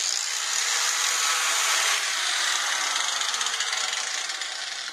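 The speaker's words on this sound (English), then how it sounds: "let's plug in this 110 volt grinder and see if she works here" 110-volt angle grinder running on power from a solar inverter, a steady high-pitched whirring spin, close and loud, with no talk.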